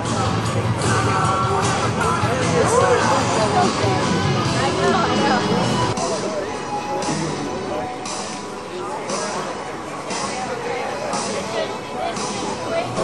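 Voices of a small crowd gathered at an outdoor July 4 Tea Party rally in Salisbury, Maryland blend into a steady murmur, fuller at first and thinning after a few seconds, with some distinct nearby talk.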